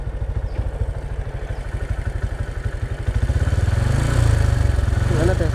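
A warm Honda Supra X 125 motorcycle engine idles with a steady, rapid putter up close, growing louder and rougher toward the end.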